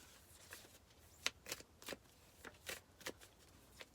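Universe oracle cards being shuffled by hand, a quiet run of soft papery riffles and flicks in irregular bursts, close up and alone.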